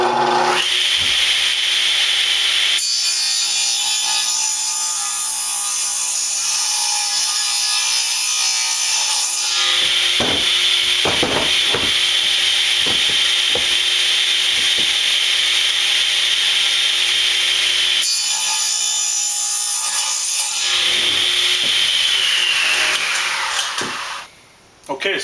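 A hand saw cuts firewood-sized lumber during a trailer rebuild, up to a spacer block, with steady rasping strokes that run in long stretches and pause briefly between bursts.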